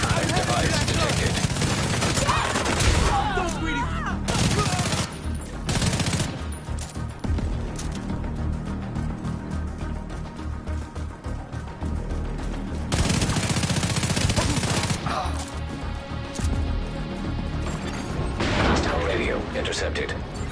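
Video game gunfire in Division 2: Warlords of New York comes as loud bursts and rattling volleys through most of the stretch, mixed with game music and voices.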